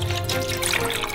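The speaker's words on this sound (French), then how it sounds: "Versez la sauce soja dans une casserole." Soy sauce poured into a saucepan while making a glaze for Peking duck, a soft steady trickle of liquid heard close up for about a second.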